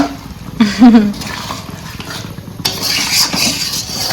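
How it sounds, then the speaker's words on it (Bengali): A curry being stirred and mixed in a pot, with scraping and clinking of a spoon against metal and a soft background sizzle, louder clatter toward the end. "তারপর এটাকে নাড়িয়ে ভালো করে মিক্স করে ঢাকা দিয়ে মজা করে খাবো"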